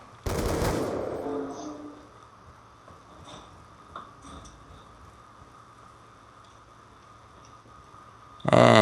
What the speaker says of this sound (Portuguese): É automático esse rifle, né? Não, é semi-automático.